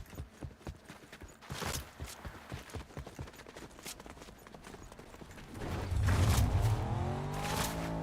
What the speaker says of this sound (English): Car? Heard a car?